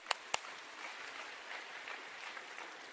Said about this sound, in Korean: 강사 목사님께 감사의 박수를 드리겠습니다